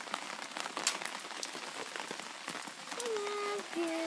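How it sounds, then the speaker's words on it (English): Rain falls outdoors beside a house, a close crackling patter of drops on surfaces, with a whine rising near the end. "Mosquitoes are out here and it's raining."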